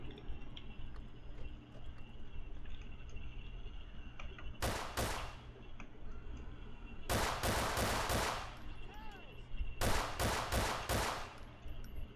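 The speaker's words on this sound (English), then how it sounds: "Ooh, shots fired." Gunshots in GTA IV on a New York State Police patrol: three separate bursts of rapid shots, each a quick cluster of sharp cracks, over a steady low hum of vehicle and street noise.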